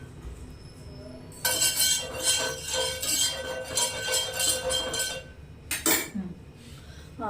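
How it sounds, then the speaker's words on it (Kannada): Metal cutlery clinks and rattles in a home kitchen as a spoon is picked up, a busy stretch of close jangling taps followed by one sharp ring. "ಒಂದು ನಿಮಿಷ ಸ್ಪೂನ್ ಎತ್ಕೊಂಡ್ಬಿಡ್ತೀನಿ."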